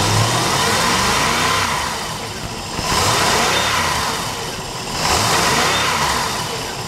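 A Ford ski boat engine fitted with a new distributor runs loud and close, revving up twice in smooth surges before settling back toward idle each time.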